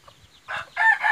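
A Thai fighting rooster crowing nearby, one loud, harsh, rising call in two bursts after a brief quiet lead-in.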